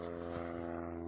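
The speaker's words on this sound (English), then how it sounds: "That plane is low" A low-flying propeller airplane drones overhead on a farm with a steady tonal engine hum, fairly faint and continuous with no voices.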